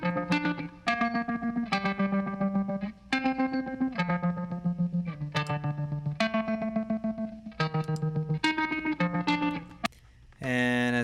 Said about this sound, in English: on the right is that tremolo sound that, you know, is signature of the song